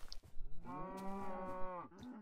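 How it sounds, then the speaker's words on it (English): A Minecraft cow gives one long, loud, close moo that holds steady before trailing off, heard alone. "Yay, moo cows."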